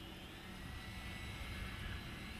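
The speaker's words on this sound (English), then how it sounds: "It taxis with only about 2 mil of throttle too." Freewing 1700mm A-10 Thunderbolt II RC jet taxiing on low throttle, a steady faint whine of its electric ducted fans with a broad hissing rush, unchanging throughout.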